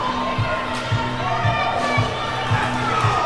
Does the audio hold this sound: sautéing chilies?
no